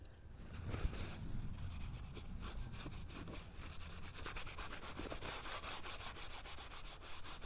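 Aging wax is rubbed onto the edges of an old box, a continuous faint scratchy scrubbing with quick back-and-forth strokes, close and alone.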